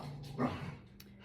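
A dog gives a short whimpering whine followed by a soft muffled bark or yip, fairly close in a quiet indoor room, with brief pauses between the sounds.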